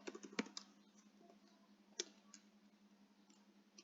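Someone types printf code on a computer keyboard, quick soft clicking keystrokes close by at a low level, with a burst at the start, a sharper tap near the middle and scattered lighter taps, no talk.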